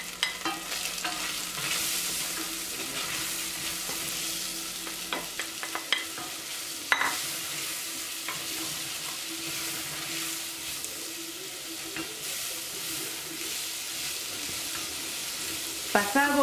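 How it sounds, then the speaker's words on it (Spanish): Onion frying in oil for a Peruvian beef stew, a bright, steady crackling sizzle that runs throughout, with occasional stirring knocks and scrapes against the pan. "En este mismo aceite vamos a poner a freír la cebolla."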